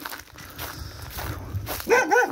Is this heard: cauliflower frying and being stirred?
no